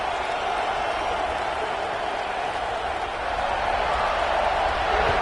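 A stadium crowd roars steadily in the NCAA 26 college football video game, a dense, continuous cheering wash heard without a break under the game's commentary.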